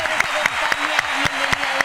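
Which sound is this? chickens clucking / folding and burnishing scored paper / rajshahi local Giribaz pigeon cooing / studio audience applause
studio audience applause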